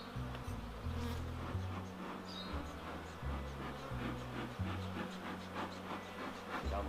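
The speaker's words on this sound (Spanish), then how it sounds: "Aquí ya vemos una colmena con más cantidad de abejas." Dense, steady buzzing of many bees swarming around an opened beehive, close and continuous, with a low droning hum beneath.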